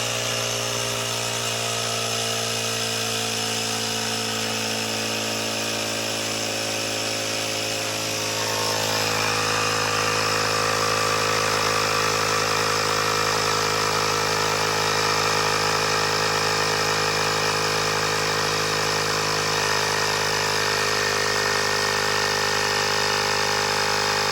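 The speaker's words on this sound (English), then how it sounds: "So you pump it up." A pump inflating a manual wheelchair tire up to about 100 PSI runs as a steady mechanical drone that grows louder and denser partway through, continuous and close, with no voices.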